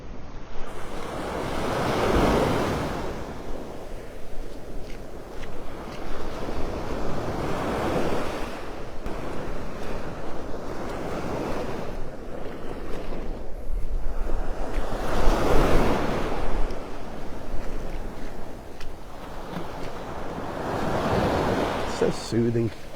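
Ocean waves surge and wash onto a beach in North Naples, Florida, in slow repeating swells, loud and close with steady wind noise buffeting the microphone.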